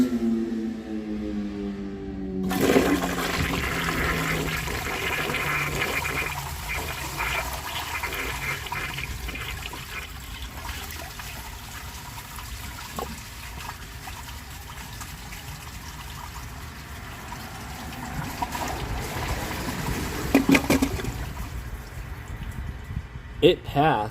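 A 1953 Kohler Trylon toilet flushes, starting with a sharp lever clunk and then a long, steady rush of water swirling and draining, gurgling near the end as the tank refills, with a voice briefly audible.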